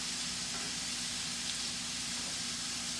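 Morel mushrooms sizzle in a hot pan of butter and oil, a steady, even hiss and crackle held at close range for the full few seconds, with no talking over it.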